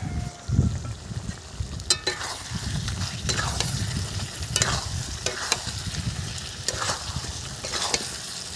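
Kuche fish (swamp eel) pieces fry in a pan with chilli powder, giving a steady close sizzle broken by several sharp scraping stirs of a spatula against the pan.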